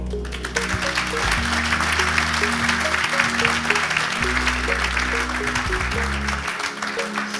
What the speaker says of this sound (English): let us give a big clapping hand to all of them